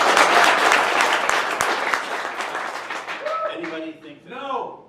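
Audience at The Haul clapping to vote on a question, a dense burst of applause that gradually thins out, with a voice speaking over the tail end.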